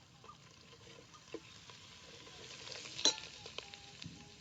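Whole spice masala sautés quietly in a pan with a faint, low crackle, marked by a few soft stirring scrapes and one sharper clink near the end.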